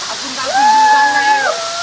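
A new waterfall roars in a steady, broad rush of falling water, while a voice rises and falls over the top partway through.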